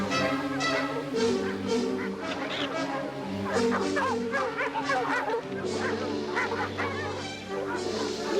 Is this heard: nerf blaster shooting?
no